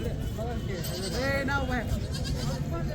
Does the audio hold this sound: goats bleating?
yes